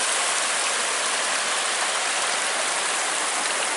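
An ice-cold mountain stream on the Eagle Creek Trail. Water rushes close by in a steady, loud, unbroken roar, with no voices.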